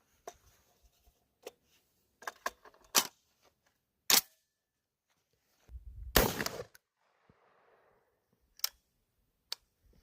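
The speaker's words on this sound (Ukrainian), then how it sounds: "от наш постріл." A single loud, sharp blast from a Safari HG-105 shotgun firing tied buckshot stands out among scattered clicks and brief thumps outdoors, followed by quiet.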